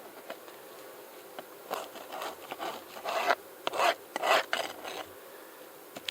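A bee hive frame is scraped to clear out wax and larvae, giving uneven bursts of close, rasping scrapes that grow louder and denser toward the middle, with quieter scratches between them.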